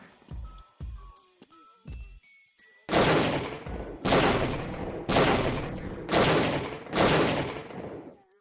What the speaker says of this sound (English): This is like a rocket launcher